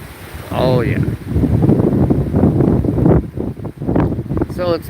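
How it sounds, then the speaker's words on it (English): A strong Hurricane Milton wind gust in Florida roars loudly against the microphone for several seconds, with a voice briefly heard at the start and again at the end. "this is one of those gusts. And it's a strong one."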